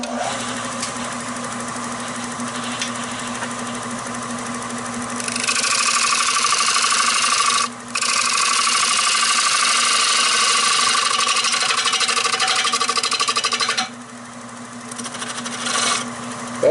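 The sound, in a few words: wood lathe hollowing out a rimmed bowl at 700 RPM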